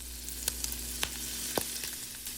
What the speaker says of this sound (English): Add 3 tablespoons butter to the pan and just take a second to appreciate the nice sizzle